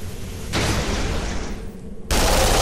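Gunfire in a shooting video game makes a dense, loud stretch of steady rapid firing and booming noise. It drops a little in the middle, then swells louder again at the end.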